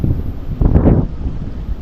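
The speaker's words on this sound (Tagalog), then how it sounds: "Medyo mahangin guys no, itong mahirap sa padyak guys, ang hangin." Wind buffets the microphone during a pedal-trike ride in the Philippines, a rumbling gust that swells and fades, with constant low roar throughout.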